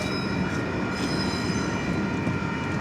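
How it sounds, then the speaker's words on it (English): Union Pacific manifest freight train rolling past a yard, a steady broad rumble of wheels and cars with a faint high metallic ring, continuous and fairly close throughout. "I think I see a train on the Makawa sub too."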